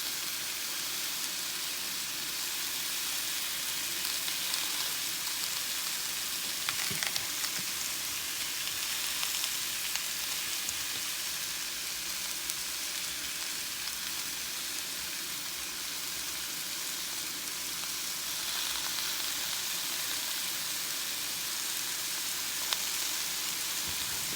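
Chicken sausage meat fries in a pan with a steady, even sizzle that holds for the whole stretch, with no voice.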